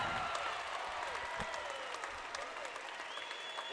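Crowd at an NCAA volleyball regional final applauding steadily as the MVP is named, a dense, fairly distant wash of clapping with some cheers and commentary voices underneath.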